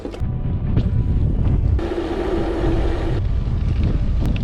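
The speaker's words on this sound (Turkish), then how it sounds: "Rüzgar adeta intikam alıyor." Strong headwind buffets the microphone on a mountain-bike ride on village roads near Çanakkale, with a constant low roar; a brief steady tone rises and fades partway through.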